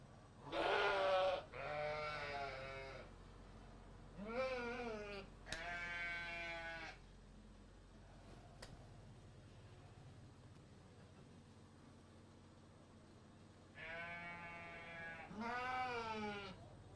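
Sheep at a livestock event bleat in several loud, close, wavering calls, two near the start, two more around the middle and a final pair near the end, with quiet background between.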